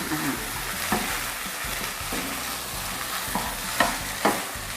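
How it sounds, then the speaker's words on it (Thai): Kale stir-fries in a hot pan for pad see ew with wide rice noodles, tender pork and egg: an even, dense sizzle with a few louder spatula knocks and scrapes near the end, no speech. "เดี๋ยวเราจะผัดไม่นาน"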